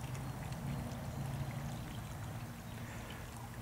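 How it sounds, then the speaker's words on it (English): Water is poured into a small sorting tray for picking through river macroinvertebrate debris, a soft, steady trickling splash heard quietly and close, with no talking. "you'll want to fill up your little tray with about 1 inch full of water"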